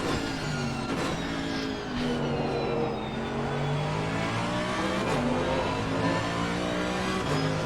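Onboard race car engine in Assetto Corsa Competizione at Hungary, revving up and down through the gears with a continuous loud whine and no talk over it.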